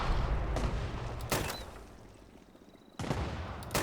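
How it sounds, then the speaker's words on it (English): Explosions from a Nuka launcher in the video game Fallout 76, several loud booming blasts spaced a second or more apart, each with a rumbling tail, with no talk over them. "That explosion might actually be the same."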